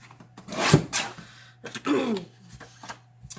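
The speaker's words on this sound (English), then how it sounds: "I'm cutting it an eighth of an inch off of 5 inches." Paper being cut for a large pop-up card: two close, loud rasping strokes of a blade through paper with short rustles between, no talking.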